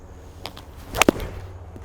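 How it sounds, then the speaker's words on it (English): Golf club striking the ball on a full driver-speed swing, a single sharp crack followed by a quick swoosh, close and alone in a quiet outdoor setting. "You can just hear the sound of that off the club."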